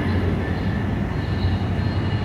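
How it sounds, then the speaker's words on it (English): A Union Pacific autorack freight train rolls past in the rain at Sacramento, California, a loud, continuous low rumble and rattle of cars throughout. "There goes the Union Pacific"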